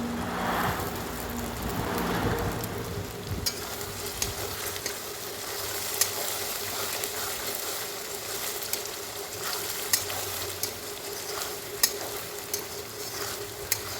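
Chopped tomatoes fry in goat fat with ginger and garlic, giving a steady, dense sizzle with occasional stirring scrapes and small pops throughout, with no voices.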